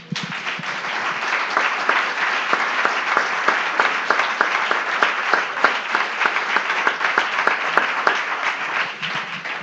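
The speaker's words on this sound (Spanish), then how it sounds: "¿Por qué no le damos un aplauso al Señor?" A church congregation applauds the Lord during a sermon, loud sustained clapping from many hands with a steady rhythmic patter across nearly ten seconds.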